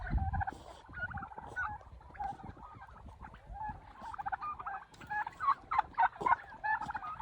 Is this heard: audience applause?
no